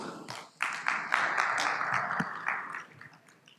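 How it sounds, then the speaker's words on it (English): Audience at a business CEO summit panel clapping to welcome the moderator, a short burst of mixed applause from a moderate crowd that swells quickly, holds briefly and tapers off within a few seconds. "A round of applause."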